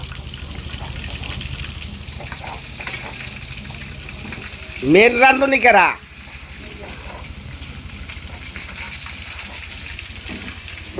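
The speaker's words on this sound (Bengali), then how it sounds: "মাছ ভাজা" Fish sizzles and crackles in hot oil, a steady frying hiss under quiet background talk, with a brief louder voice in the middle.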